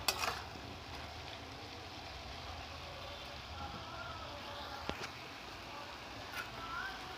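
Potatoes and spices sizzle in a pan for a radish-greens curry, a faint, steady frying hiss that runs throughout with a few small clicks and crackles.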